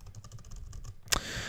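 Quick, light clicks of typing on a computer keyboard while entering custom options into a document, a short irregular run of keystrokes ending in a sharper louder clack followed by faint hiss.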